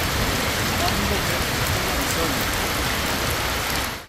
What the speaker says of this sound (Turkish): Temmuz ayında etkili olan sağanak ve dolu yağışı vatandaşları hazırlıksız yakaladı.